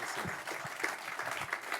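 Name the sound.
audience applause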